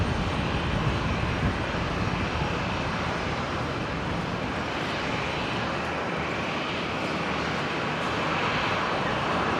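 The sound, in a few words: Qantas airliner from Sydney landing in a crosswind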